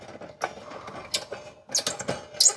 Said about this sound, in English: 3mm Allen wrench goes right here.